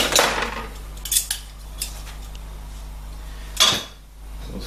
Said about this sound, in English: Give ourselves a pair of tongs.